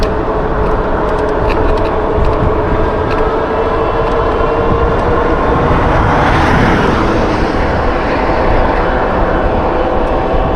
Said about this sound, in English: And that was two planes going overhead. Not quite sure, but to me it looked like A-10 Warthog.